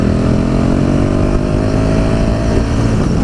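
A 2017 KTM 1290 Super Duke R motorcycle engine drones steadily and loudly under way on the road, with rich harmonic tones holding a constant riding pace throughout.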